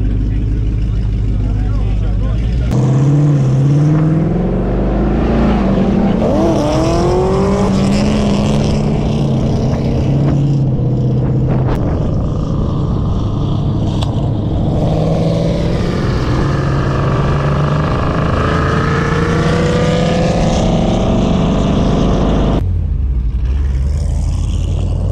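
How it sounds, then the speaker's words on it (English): A manual second-generation Cadillac CTS-V with a cam and supporting mods on E85, revving on a dyno: loud sustained engine roar that climbs in pitch through long pulls, with people talking over it. "Running a CTSV, second gen, manual."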